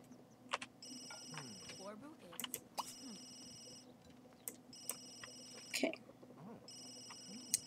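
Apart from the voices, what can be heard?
phone ringing in The Sims 3 video game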